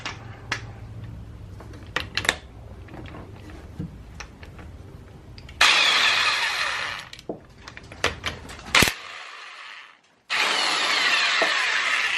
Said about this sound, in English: Let me get this clutch off here.